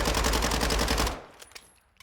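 Automatic weapon fire in the video game Warzone 2, a rapid burst of about twelve evenly spaced shots lasting roughly a second, then a few faint clicks and mechanical sounds as it trails off.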